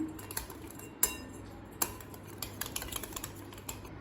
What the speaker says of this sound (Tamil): இது எல்லாத்தையும் நல்லா மிக்ஸ் பண்ணிக்கலாம்.